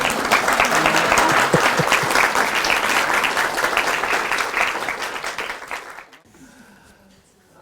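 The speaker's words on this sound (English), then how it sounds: "kindly welcome him with a thunderous clapping hands" Audience applause welcoming a guest lecturer to a talk on Buddhist science of mind, a dense, steady clapping from a large crowd that holds for about six seconds, then drops away to near silence.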